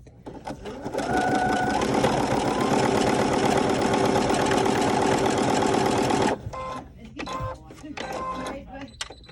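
Sewing machine stitching with a twin needle at medium speed, a loud steady mechanical whir with rapid rhythmic needle clatter running for several seconds, then stopping, followed by a voice speaking.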